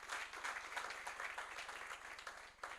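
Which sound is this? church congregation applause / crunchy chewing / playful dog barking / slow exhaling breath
church congregation applause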